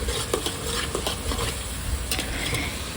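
Ginger garlic paste sizzles in a pan as a spoon stirs it briskly, a close, busy mix of scraping and steady frying crackle without any talking.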